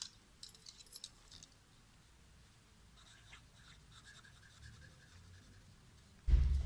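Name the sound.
pen writing on paper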